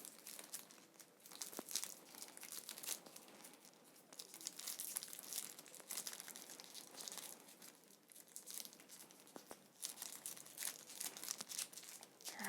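Thin plastic baggies holding Codenames board game pieces crinkle and crunch continuously up close, with sharp tearing-like bursts as the bags are handled and pulled open, no talking.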